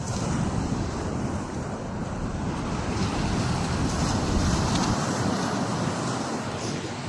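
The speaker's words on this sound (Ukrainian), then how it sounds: "Зараз послухати, який океан класний." Steady roar of Atlantic surf on the coast near Zarautz, Spain, with continuous wind rumbling across the microphone, waves washing in without pause.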